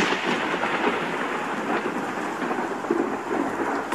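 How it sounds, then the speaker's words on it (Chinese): A steady low rumble of thunder rolls beneath a dense hiss of heavy rain, continuous and fairly loud throughout, with no voices. "你怕雷声？"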